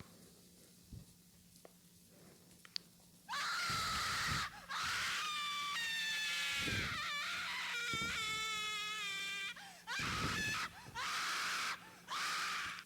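A monster in the Slendytubbies horror video game lets out loud, drawn-out shrieking screams in several long bursts after a quiet stretch with faint clicks, with no talk over it.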